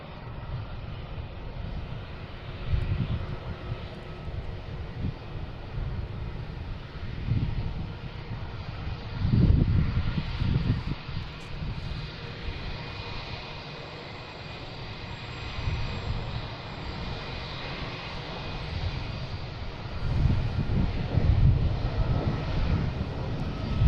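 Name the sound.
jet airliner taking off from runway 33 at Boston Logan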